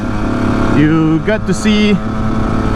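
A Husqvarna SMS 125 two-stroke motorcycle being ridden, its buzzy engine rising and falling in pitch as revs change, heard under someone speaking close to the microphone.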